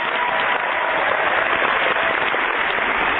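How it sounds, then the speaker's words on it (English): Steady round of applause for a radio show listener, a dense even wash of clapping held at constant loudness throughout with no break or speech on top. "Let's give him a Fire Your MD Now. Round of applause."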